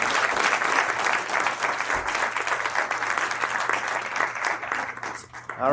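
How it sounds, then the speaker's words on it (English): Sustained audience applause at a school board regular meeting, a dense steady wash of many hands clapping close by that carries through nearly six seconds before easing at the very end. "Big round of applause for Eden."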